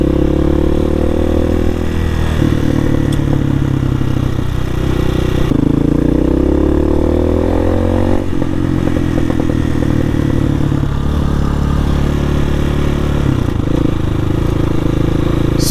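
A Hawk 250 motorcycle rides along the Lake Apopka Wildlife Drive, its engine droning loud and close throughout with gear shifts and rising revs, plus wind noise.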